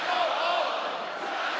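A large basketball arena crowd at a college game chants together in a loud, dense, sustained roar that rises and falls slightly, with no single voice standing out.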